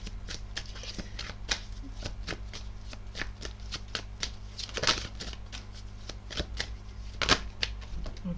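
Tarot cards shuffled by hand up close, a run of crisp riffling flutters and sharp slaps in irregular bursts, with a couple of louder snaps, over a faint steady hum.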